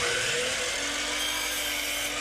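A miter saw cuts a 45-degree angle through gypsum ceiling molding, producing a short, loud, continuous grinding whine with a rough abrasive texture, heard close up.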